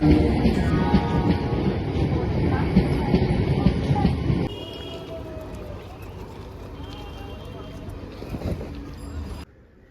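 A train rumbles loudly past nearby on a fog-bound line, a dense steady roar that drops abruptly to a quieter drone partway through, with a voice speaking over it.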